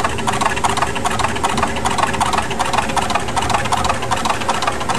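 The engine of the steamboat Wayward Belle runs with its crankshaft-driven pumps and monotube boiler, giving a loud, close, rapid rhythmic chugging with evenly spaced mechanical pulses.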